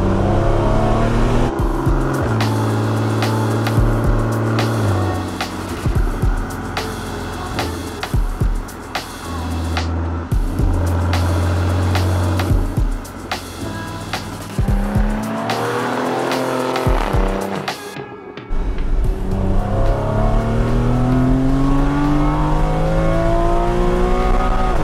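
A Porsche Cayman 981 engine revs hard and repeatedly, climbing through the gears with sharp bursts, tyre squeals and brief pauses between pulls, loud and close.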